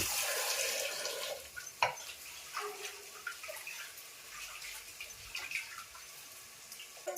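Dal being washed in water in a vessel, with close sloshing and swishing that swells and fades, plus a few sharper splashes and light clinks.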